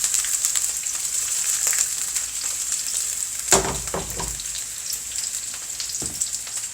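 Pork sizzles steadily in a single frying pan, a continuous crackling hiss with faint spatters and a few louder stirring clacks midway, close and alone without talk.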